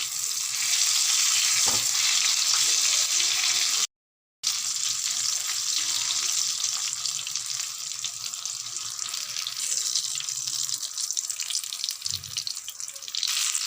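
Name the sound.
stuffed flat beans (sim) frying in a pan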